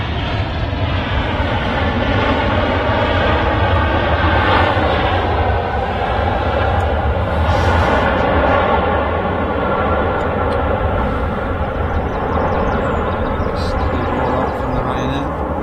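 Airliner on its takeoff roll along runway 2 at Manchester Airport, a loud sustained jet roar with a rising whine that holds steady and close throughout, voices faintly beneath.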